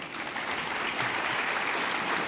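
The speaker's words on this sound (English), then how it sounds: "please give a round of applause for our panel" Conference audience applauding a panel at a general session: even, sustained clapping at moderate level, somewhat distant in a large room, lasting a couple of seconds with no speech.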